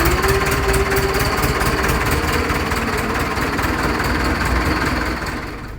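A diesel tractor engine runs steadily with a loud, throbbing rumble and rattle, close by, easing off slightly at the very end.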